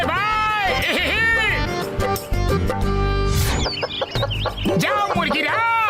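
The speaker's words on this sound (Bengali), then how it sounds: "আরে মোটু দেখো সব মুরগিরা চলে এসেছে ট্রাকে উঠে পড়েছে সবাই" Cartoon chickens cluck and squawk noisily at an animated poultry farm, with busy, overlapping bird calls mixed with voices and background bustle.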